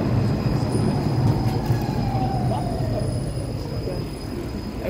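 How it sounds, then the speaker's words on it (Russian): A tram rolls past close by on a street in Wrocław with a steady rumble of wheels on rails and a faint metallic squeal, noisy street ambience around it. "Дам еще вам полюбоваться трамвайчиком."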